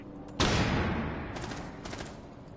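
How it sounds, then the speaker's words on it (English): A flashbang grenade in the PUBG Mobile video game detonates with a sudden loud bang, followed by a long ringing, fading burst that carries a few faint crackles before dying away. "Flashbang out."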